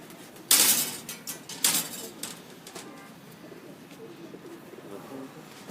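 Pigeons on a rooftop loft in Sialkot coo softly and steadily, a few sharp flapping or knocking sounds near the start, with faint background voices.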